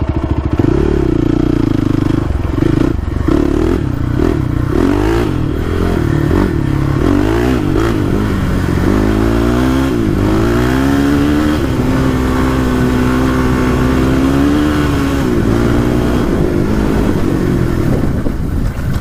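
A Honda TRX450r ATV engine runs at full throttle, a loud, close, continuous rasping roar with pitch rising and falling as it surges along at top speed, rattling and clattering throughout.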